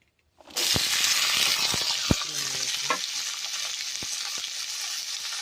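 Oil sizzles steadily in an iron pan as fenugreek leaves and fresh pigeon peas fry with green chillies, with a broad continuous hiss and a few sharp clinks and scrapes of stirring.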